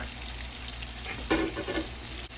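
Shrimp cook over medium heat in a pan for shrimp and grits, a soft continuous sizzle with a brief louder crackle partway through, no voices.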